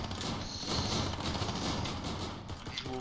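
Pistol gunfire in the video game Island of Nyne: a dense, steady stretch of rapid shots and impacts that runs the whole time at an even, fairly loud level, with no speech.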